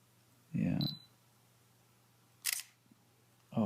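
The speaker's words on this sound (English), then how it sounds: "A very nice shutter movement" Olympus PEN-F mirrorless camera shutter firing, a crisp close mechanical snap followed by a second sharp click about two seconds later, with a third starting at the end, over a quiet steady hum.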